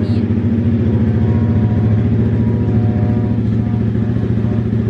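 A 2020 Honda Grom motorcycle with a new aftermarket exhaust idles close by with a loud, deep, steady rumble and fast even pulses, holding a constant pitch with no talking.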